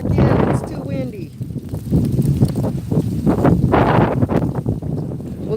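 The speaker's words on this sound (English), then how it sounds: "It's too windy." Strong wind buffets the microphone with gusty rumbling while a person talks over it.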